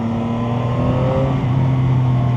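A Chinese three-cylinder motorcycle roars under acceleration, pitch climbing, dipping at a shift and climbing again, loud and close throughout without speech.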